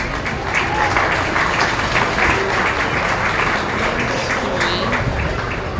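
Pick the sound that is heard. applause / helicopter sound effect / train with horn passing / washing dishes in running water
applause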